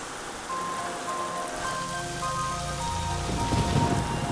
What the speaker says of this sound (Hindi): लो, बारिश शुरू हो गई।